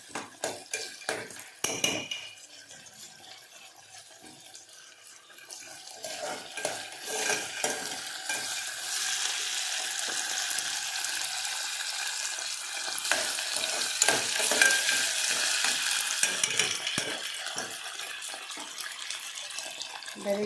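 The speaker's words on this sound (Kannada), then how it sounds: "ಸ್ವಲ್ಪ ಆನಿಯನ್ ಮತ್ತು ಪೊಟ್ಯಾಟೊ ಎರಡು ಒಂದು ಸ್ವಲ್ಪ ಗೋಲ್ಡನ್ ಬ್ರೌನ್ ಆಗೋವರೆಗೂ ಒಂದು ಸ್ವಲ್ಪ ಫ್ರೈ" Onion and potato frying in a pan for pulav, with a steady broadband sizzle that builds after the first few seconds and faint stirring clinks near the start, no voices.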